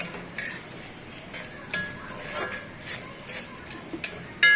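Spices dry-roasting in a pan over a low flame, stirred with a spoon that scrapes and taps the metal in an uneven rhythm, with a faint sizzle underneath, close and moderately loud.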